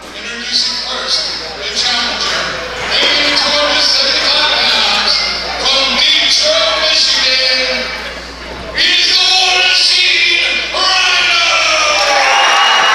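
A wrestling crowd at a heavyweight title match yells and cheers in loud waves, dipping briefly before surging back, with scattered shouts and thuds from the ring mixed in.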